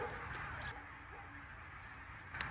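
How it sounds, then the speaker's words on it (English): Barnacle geese honk from a large flock coming in to farm fields in Scotland, faint overlapping calls drifting over a soft background hush. "Every day these barnacle geese come into land here, and they come into these farm fields to feed."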